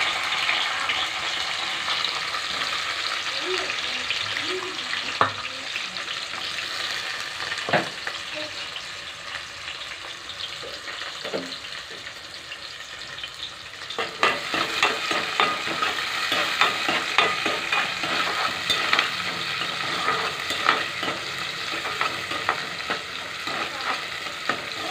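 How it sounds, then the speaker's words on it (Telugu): Onions fry in a pan with a continuous close sizzle and crackle. A few clear utensil knocks land early, and the spitting grows denser and louder partway through. "ఉల్లిగడ్డలు కొంచెం వేగిన తర్వాత"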